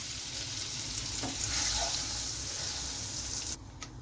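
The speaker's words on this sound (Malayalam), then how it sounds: "പാനിലേക്ക് ഞാൻ ഒരു പീസ് ബട്ടറാണ് ഇട്ട് കൊടുക്കുന്നത് ബട്ടർ ഒന്ന് മെൽറ്റായി വരുന്നിടം വരെ നമുക്ക് വെയിറ്റ് ചെയ്യാം" A piece of butter melts and sizzles in a frying pan for a mushroom fry, a steady close hiss that cuts out abruptly near the end, leaving a few faint clicks.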